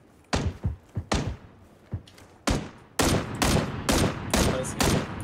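Gunfire in the video game PlayerUnknown's Battlegrounds: a few scattered single shots at first, then a dense run of loud, rapid bursts filling the second half, with a little talk mixed in.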